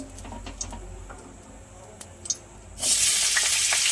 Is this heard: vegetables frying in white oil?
yes